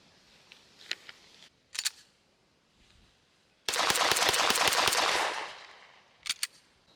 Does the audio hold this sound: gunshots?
yes